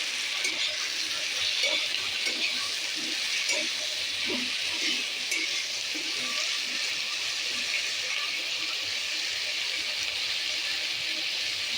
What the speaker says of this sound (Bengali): তারপরে এটাকে ভালো করে এবার ভাজবেন সবগুলো মিক্স করে